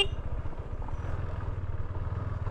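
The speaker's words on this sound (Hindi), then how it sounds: "KTM ड्यूक 390 राइड कर रहा हूँ" A KTM Duke 390 motorcycle rides off-road on a trail up toward a waterfall, its engine putting out a steady low, throbbing rumble close to the rider, with no talking over it.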